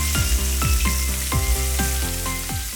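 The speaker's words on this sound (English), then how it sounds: "this combination stir frying smells so amazing" Prawns stir-frying with ginger and spring onion in a hot pan give a steady, loud sizzle, with repeated scraping stirs and clanks about every half second.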